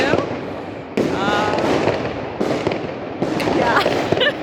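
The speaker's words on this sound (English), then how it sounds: "Sometimes I'm thinking a firecracker is gonna come shooting through my window." Fireworks and firecrackers going off on New Year's Eve in Berlin, heard as loud sharp bangs and crackling bursts repeating every second or so, with whistling rockets and a constant din of distant explosions and voices.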